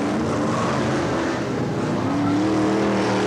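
Brisca F1 stock cars racing on an oval track at Northampton in the 1987 International Cup, a loud continuous roar of several engines with a rising whine as cars pass nearby.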